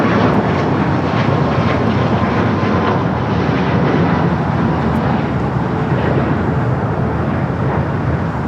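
A Boeing 737 MAX 8 airliner at Los Angeles International Airport gives a loud, steady broadband jet engine roar that holds without a break from start to finish, with no voices over it.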